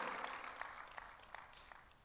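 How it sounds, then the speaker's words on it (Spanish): A church congregation claps in a soft, scattered burst that fades over a couple of seconds, heard faint and distant in a large room. "Dense un aplauso a ustedes porque los felicito."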